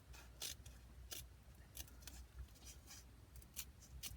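Scissors snip through paper while cutting out an origami doll dress, giving a run of short crisp cuts at an uneven pace, close and fairly quiet, with no talking.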